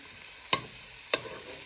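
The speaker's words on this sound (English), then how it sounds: "they're starting to sizzle nicely" Pork pieces fry in a hot pan with a steady sizzle, broken by two sharp clinks of a utensil stirring against the pan about half a second apart, with no voices.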